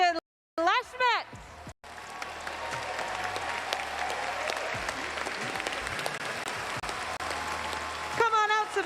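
Sustained applause from a large arena crowd greets a player walking out at the Pokémon World Championships trading card game finals, steady and loud for several seconds, with an announcer's amplified voice before and after.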